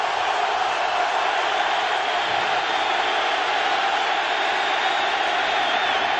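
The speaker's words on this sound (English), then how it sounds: "the crowd picks up the noise" Stadium crowd at an NFL game, Baltimore Ravens at Pittsburgh Steelers in 2001, a dense, steady roar filling the whole stretch at a loud, even level with no pauses.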